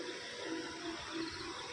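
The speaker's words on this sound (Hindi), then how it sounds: "और ये वाटरफॉल काफ़ी शानदार है झरना।" A waterfall near a roadside traffic jam on the way to Hospet, Karnataka sends out a steady, faint wash of rushing water with no talk over it.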